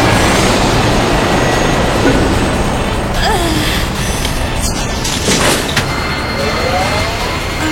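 Helicopter in the Resident Evil video game, a loud, steady rotor roar filling the whole stretch, with a brief metallic clank in the middle and no talking.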